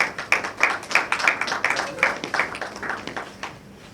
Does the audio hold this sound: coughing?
no